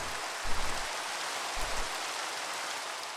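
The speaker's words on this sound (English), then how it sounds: "Goddamn rain!" Steady, heavy rain falls around a building housing a clothing store, a dense, continuous hiss with faint low rumbles and no talking.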